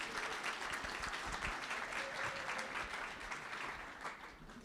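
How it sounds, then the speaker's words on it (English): Audience applause at an evening business plan pitch competition, a dense steady wash of clapping from a roomful of people that holds for several seconds before tapering slightly at the end. "So round of applause to the students and the Rising Tide for pulling this off."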